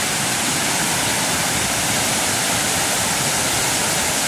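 Floodwater rushes in from the fields as a loud, unbroken broadband roar, close and constant like a torrent, with no voices over it.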